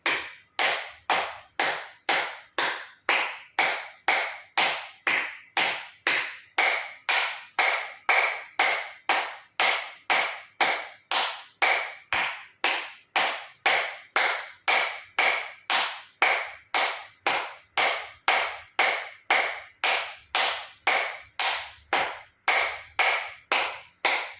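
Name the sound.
acupressure hand clapping, full palms and fingers, 50 times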